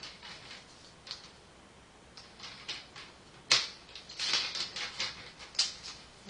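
Scissors or a trimmer cut a strip of green paper for a mini album. Quiet scattered snips and rustles come first, then a sharper cluster of crisp cuts and paper scrapes near the close.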